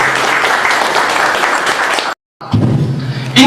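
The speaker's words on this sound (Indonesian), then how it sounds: "Tepuk tangan loh Bapak Ibu." Seminar audience applauding, dense loud clapping that cuts out briefly for a moment of silence and then resumes just as strongly.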